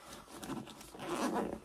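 The inside zipper of a college commuter's backpack is pulled open in a close, scratchy rasp that swells toward the end. No one speaks.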